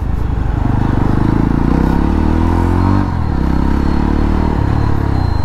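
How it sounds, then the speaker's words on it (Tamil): Yezdi Roadster 350 motorcycle fitted with an aftermarket exhaust, heard up close as a loud, throbbing engine whose pitch rises and dips with the throttle. "யாராக இருந்தாலும் இந்த வண்டியை ஒரு செகண்ட் திரும்பி பார்த்துடுறாங்க இந்த சவுண்டுக்காகவே"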